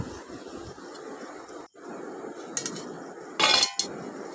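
A metal lid clinks shut on a pot of boiling potatoes, with a couple of short bright clanks near the end over a steady bubbling, sizzling kitchen background.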